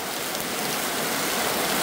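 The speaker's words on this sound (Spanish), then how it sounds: "tenemos 3 días que ha estado lloviendo fuerte, fuerte, fuerte aquí en la zona" Heavy rain pours down steadily around a house after days of downpour, a dense, continuous hiss with no pauses and no voices.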